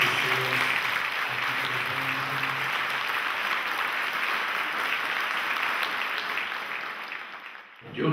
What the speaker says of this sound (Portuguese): Eu queria que vocês dessem uma salva de palmas muito carinho a essas pessoas.